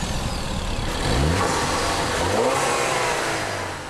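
Ford 2-litre EcoBoost turbocharged engine pulling a car hard under acceleration, a steady loud drone that swells and rises in pitch midway, with no talking.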